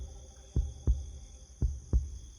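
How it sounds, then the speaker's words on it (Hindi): A heartbeat throbs from inside a cocoon in a horror setting: four deep, muffled thumps in a slow pulse, evenly spaced over a faint steady hum. "वो धक धक की आवाज उसी के अंदर से आ रही थी।"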